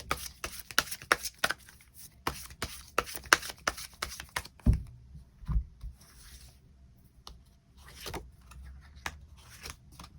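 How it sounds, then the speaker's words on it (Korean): Tarot cards are shuffled and drawn by hand, a rapid run of close, crisp card flicks and riffles for several seconds, then softer scattered slides and taps as cards are laid out. "추가 카드 뽑아보도록 하겠습니다"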